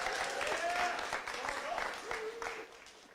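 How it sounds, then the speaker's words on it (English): A startup demo day audience claps for Carlos Diaz, general partner at a seed fund. The clapping is moderate and uneven, with a voice calling out over it before it fades. "Huge round of applause for Mr. Carlos Diaz, General Partner at the Refiner Seed Fund"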